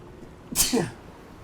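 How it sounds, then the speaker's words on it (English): A single sneeze bursts out close by, a sharp hissing blast followed by a short voiced tail. "sneeze is coming"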